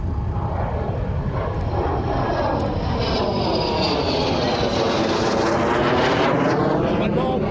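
A Rafale M fighter jet passes overhead at Istres, a loud sustained engine roar whose pitch sweeps as it approaches and recedes, with speech beneath it.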